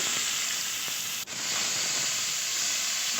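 Whole dried chilies, panch phoron, grated ginger and mixed vegetables fry in hot oil, giving a loud, continuous close sizzle with a brief dip partway through.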